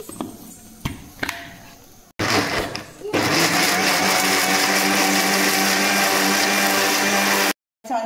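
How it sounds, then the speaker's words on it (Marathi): A kitchen mixer grinder whirs through tomatoes and grated jaggery for homemade tomato ketchup. After a brief voice and a short burst, it roars loudly and steadily for about five seconds, then cuts off abruptly. "आणि हे मिक्सरला मी छान फिरवून घेते."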